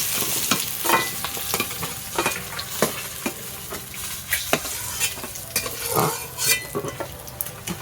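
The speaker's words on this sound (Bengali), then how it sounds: "এবার আমি এই তেলের মধ্যে বাকি মাছগুলো দিয়ে দেবো" Pieces of katla fish fry in hot oil, a continuous crackling sizzle punctuated by irregular metal scrapes and knocks of a spatula turning them in the pan.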